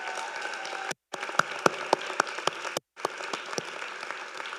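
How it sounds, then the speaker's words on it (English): Audience applause at a college inauguration ceremony for RCC: steady broadband clapping with sharper individual claps standing out, briefly cut off twice before resuming. "Give a rousing round of applause for the past and present faculty, students, and administrators that served RCC"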